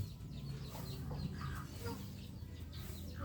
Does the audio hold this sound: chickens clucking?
yes